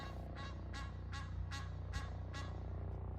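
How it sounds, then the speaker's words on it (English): An outdoor duck in Amsterdam quacks over and over, about six evenly spaced calls rising above a steady low rumble of background noise. "Here is a duck who just kept quacking"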